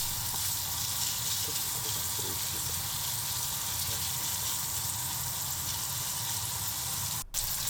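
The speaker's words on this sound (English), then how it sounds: "In a frying pan, heat some oil and lightly saute the bacon and sausages." Bacon and sausages saute in hot oil in a frying pan, giving a steady close sizzle and crackle that runs the whole time with only a brief dip near the end.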